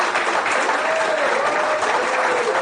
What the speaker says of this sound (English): let's have a round of applause for the career of Paul Morrell